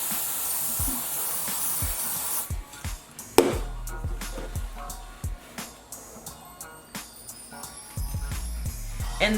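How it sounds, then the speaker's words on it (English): Lace adhesive spray misted onto a wig hairline, a long steady hiss at the start followed by a string of short sharp spray bursts and clicks. "And I'm gonna just spray my hairline."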